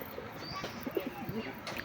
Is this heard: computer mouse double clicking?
no